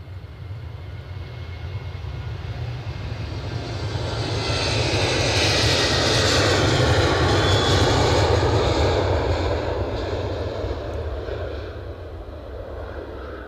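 Boeing 787 Dreamliner at Edinburgh Airport, its jet engines roaring in a broad, steady rumble that swells to a peak midway and slowly eases, heard from a moderate distance outdoors.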